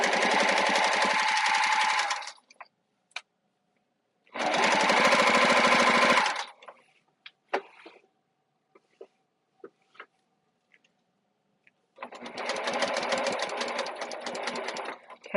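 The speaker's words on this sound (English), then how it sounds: "You're going to sew the binding all the way down to the opposite corner with 1/4 inch seam" A sewing machine stitches quilt binding with a quarter-inch seam in three loud, fast bursts, separated by quiet pauses that hold only small clicks and fabric handling.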